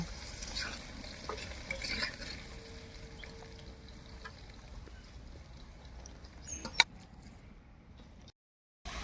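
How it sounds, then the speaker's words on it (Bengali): Potatoes frying in oil until reddish while being stirred, a soft continuous sizzle with occasional scraping and clinks, fairly quiet throughout and briefly cutting out at the end. "আলুগুলো লাল লাল করে ভাজা হয়ে গেছে"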